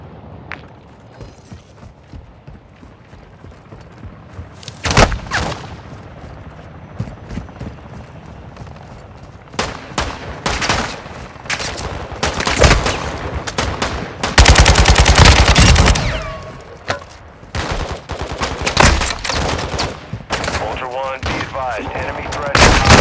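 Gunfire in the Call of Duty Modern Warfare Warzone DMZ video game, with repeated bursts and single loud shots scattered through a busy mix, while radio-style voices speak in between.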